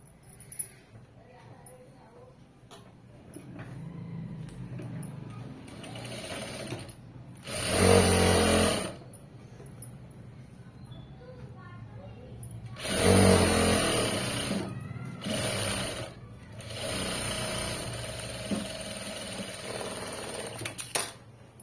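A home sewing machine stitches in two short, loud bursts, each about a second long, separated by quieter stretches with talk.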